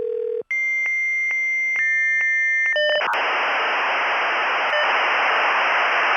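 A dial-up modem connects over a telephone line: a dial tone and a quick run of dialing tones give way to electronic handshake squeals, then a loud, steady hiss of static that carries on to the end.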